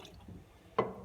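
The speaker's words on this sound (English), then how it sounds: "the water dishes, which will now be tipped out into the sink" Water tipped from budgie water dishes into a sink lands in a brief splash, after a few faint trickles.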